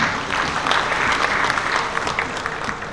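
A seated audience at a Bali regional parliament (DPRD) session applauds for Bali, a dense, even wash of clapping that fills the hall for about three seconds at close range.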